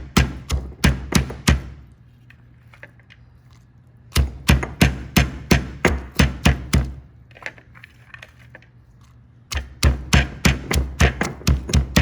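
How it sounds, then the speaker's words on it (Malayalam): Shallots, green chillies and onion crushed for coconut milk in a Kerala pork curry: three bursts of rapid, loud, regular thudding pounds, each about two seconds long, separated by quieter pauses, with no talk. "ചെറിയുള്ളിയും പച്ചമുളകും സവോളയൊക്കെ ഒന്ന് ചതച്ച് തേങ്ങാപ്പാലിലേക്ക് ഇടാം"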